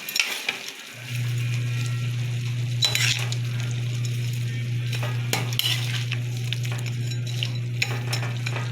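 A Bicol home-style dish from Bulan, Sorsogon, sizzles in a pan as it is stirred, with scattered clinks and scrapes of the utensil over a soft frying hiss and a steady low hum of the stove.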